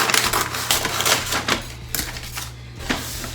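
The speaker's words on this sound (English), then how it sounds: "You take your scissors, and you cut across." Scissors snip and slice across wrapping paper in a series of crisp, close cuts and rustles while a gift is wrapped, with no talking.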